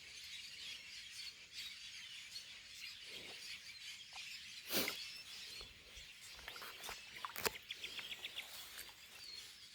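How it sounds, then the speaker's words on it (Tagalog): Many birds calling outdoors, a faint scatter of chirps and squeaky calls at varying distances with a few sharper bursts near the middle and end, no talking. "Dami ibon nun."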